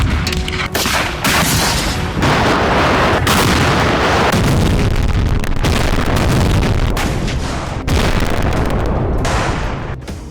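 Artillery bombardment in the Russia-Ukraine war: loud, continuous booming and blasts with repeated sharp impacts and rolling rumble filling the whole stretch, no voices.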